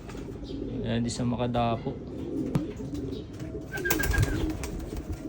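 Pigeons make low cooing calls in short bursts close by, while people talk in Tagalog over and around them during a free-flight recall session.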